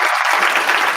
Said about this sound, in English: Can we have an applause, Pappi, please, from the soundboard?